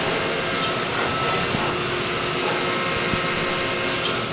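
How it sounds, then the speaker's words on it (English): Coolant running inside a Haas VF-9 vertical machining center, a loud, steady rushing spray over a constant mechanical whine, unbroken throughout with no voices. "Turn the coolant back on."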